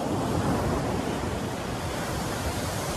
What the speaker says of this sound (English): Like these waves.